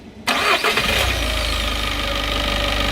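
A 2018 Peugeot Expert van being checked for a camshaft position sensor fault cranks briefly, then its engine catches and settles into a steady, loud idle close by, with no talking.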